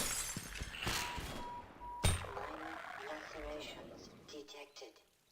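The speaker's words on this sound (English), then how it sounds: "That's a good broken glass effect." Glass shattering in the Ravenholm level of Half-Life 2, a sharp crash about two seconds in with brief debris after it, loud and close against game background noise, with a person talking over parts of it.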